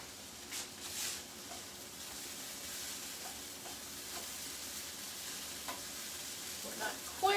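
Onions and peppers frying in a pan for empanada filling, a quiet, steady sizzle with occasional soft stirring clicks and scrapes, no talking.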